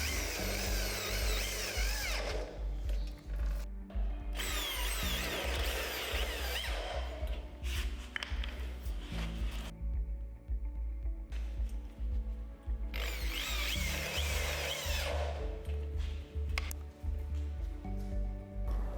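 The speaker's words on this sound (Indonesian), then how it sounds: "Oke, kita bor bagian lainnya." A power drill drives screws into a light steel canopy frame, long loud whirring bursts close up with short pauses between them.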